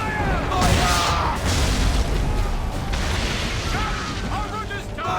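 Naval cannon fire from sailing ships in Assassin's Creed III: continuous heavy booming and rumbling barrage, loud and dense, with crashes and shouted voices mixed into the chaotic battle din.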